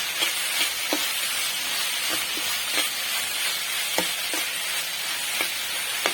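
Snake gourd with coconut sizzles and fries in a pan with a steady hiss while a utensil stirs it, sending sharp scraping clicks at irregular intervals through the frying noise and no voices.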